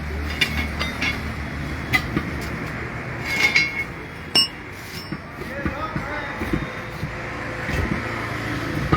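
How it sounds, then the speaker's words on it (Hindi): Tyre being fitted onto a wheel at a tyre shop, with metallic clinks, ratcheting clatter and thumps from the fitting machine, close and irregular, while someone talks throughout. "आप देखिए अब मेहंदी भाई इस टायर को फिट करेगा इसमें।"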